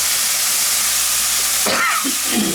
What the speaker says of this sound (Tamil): குறைஞ்ச நெருப்பில் வதங்கி வரும் வரைக்கும் கொஞ்சம் இப்படி அந்த பக்கம் இந்த பக்கம் திரட்டி விட்டுட்டு